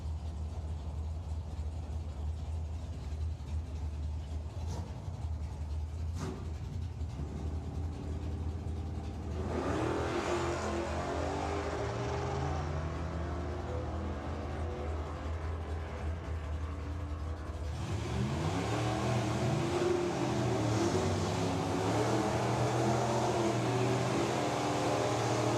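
A drag racing car from the 100E class launches down the strip at Santa Pod, its engine swelling into a rising, whining roar that sweeps past at a distance over a constant low background hum, then builds again.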